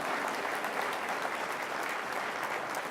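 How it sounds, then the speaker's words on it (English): Audience applause at an All Stars Night program, a steady, dense wash of many hands clapping at an even level throughout, with no voices on top. "Give her a round of applause, please."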